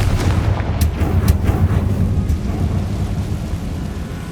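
A Confringo spell blasts in Hogwarts Legacy, a heavy, continuous rumbling roar with a few crackling bursts early on, loud and sustained throughout.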